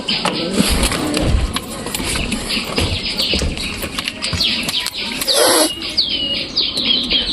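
Pigeons inside a loft give soft, repeated coos and flutters, close and moderately loud, with scattered chirps and shuffling throughout, while someone talks over them.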